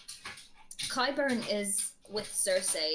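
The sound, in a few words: dog whimpering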